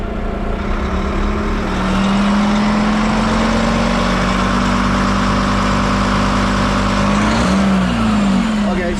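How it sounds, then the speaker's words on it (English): A concrete pump truck's diesel engine runs steadily under regeneration load during a large pour, a loud, continuous drone with a rising tone midway and a brief wavering near the end. "so that's the regen making the noise"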